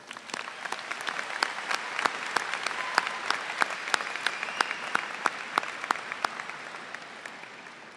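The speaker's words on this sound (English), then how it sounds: "Do one more round of applause for our choir," Audience applause for the choir at the Springdale High School 2019 graduation ceremony: a dense, steady wash of clapping from a large crowd, with sharp individual claps standing out throughout and no talking.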